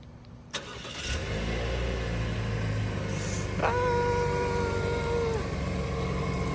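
A car engine cranks and catches, then settles into a steady idle close by, with a faint whine riding over the low rumble and no talking.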